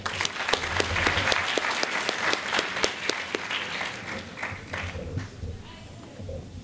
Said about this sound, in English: ask that you applaud them again